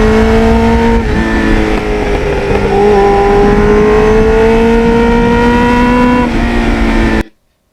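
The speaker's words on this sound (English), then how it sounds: "it is still fun to go through the gears on this bike" A 1989 Kawasaki Ninja GPX750R motorcycle pulling through the gears on damp roads, its loud engine note climbing in pitch with a gear change near the start and another near the end before it cuts off abruptly.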